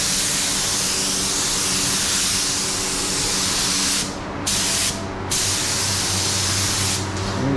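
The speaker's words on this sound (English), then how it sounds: "So got some adhesion promoter in there. I can't really spray and show you" An aerosol can sprays adhesion promoter onto car exterior trim from a Sierra Cosworth, loud close hissing bursts held for several seconds with a few brief pauses between passes.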